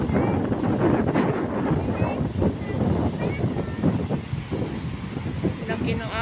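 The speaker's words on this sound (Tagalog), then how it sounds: "Laki ng alon." Big sea waves crash at a beach on a cloudy day while strong wind buffets the microphone, a loud continuous rushing roar with a voice speaking over it.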